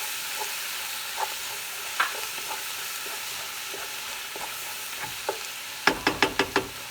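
Ginger is stirred in a frying pan for butter chicken, giving a soft low sizzle broken by sparse spoon scrapes and taps, ending in a quick run of several sharp clinks against the pan.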